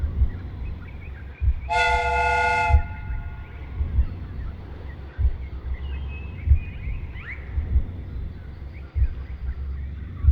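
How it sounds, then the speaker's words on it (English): In the Sherlock Holmes: Crimes & Punishments video game, a steam train whistle gives one clear, sustained blast of about a second over a steady, low, rumbling mechanical ambience with occasional thumps. "The steam whistle is ready to be used."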